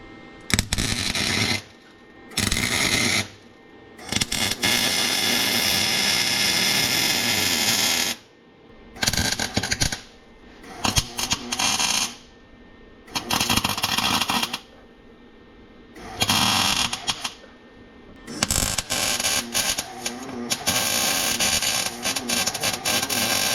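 Welding on a 1962 Chevrolet Impala, heard as loud crackling, buzzing bursts of several seconds each, separated by short pauses.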